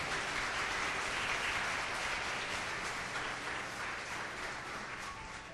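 Congregation applauding in a church service, a steady, even wash of many hands clapping, heard from a distance and fairly faint, slowly fading toward the end with no talking over it.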